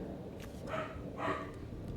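Dogs give a couple of brief, muffled barks, fairly faint, over a low, steady background hum.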